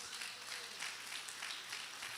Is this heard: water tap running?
no